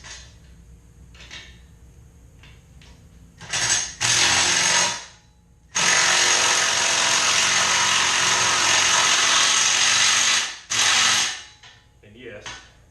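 A power tool with a 9/16 socket drives bolts on a wrapper assembly in two loud, sustained whirring bursts. The second burst runs about five seconds, and quieter clicks and handling noises fall between them.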